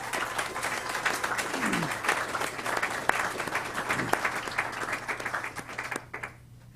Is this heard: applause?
yes